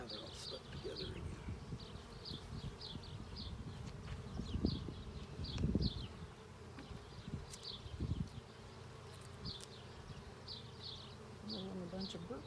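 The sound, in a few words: honeybees buzzing during a hive inspection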